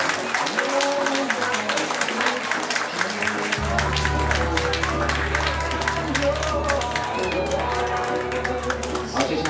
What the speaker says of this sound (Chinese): 南方主人家，掌声欢迎